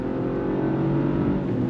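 A 2024 Chevrolet Trax RS SUV pulls under hard throttle, its engine note holding a steady, moderately loud drone for a brief moment with no talking.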